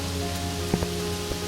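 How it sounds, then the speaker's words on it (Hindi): Steady rain falling in a cartoon village scene by temple steps, a continuous wash of drizzle with a couple of soft drop taps, heard alone without any voices. "बारिश की बूंदें उसके गाल पर गिर रही थीं।"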